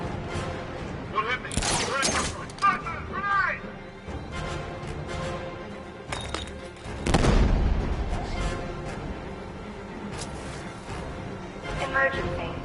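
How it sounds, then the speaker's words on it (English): A grenade blast in a Batman video game erupts mid-scene, a broad booming burst followed by further crashes and rumbling effects, with a voice shouting and game dialogue over the busy action. "Grenade! Grenade!"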